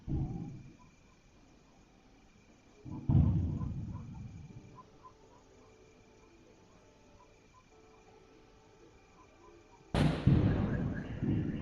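Three heavy booms from a war zone, each a sudden loud blast with a rumbling decay, spaced several seconds apart against a quiet background, the last one sharp and strong.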